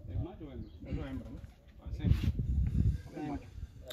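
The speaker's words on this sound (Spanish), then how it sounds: "La tenemos aquí, aquí está la palomita." Pigeons coo with soft, throaty calls at close range while people talk over and around them.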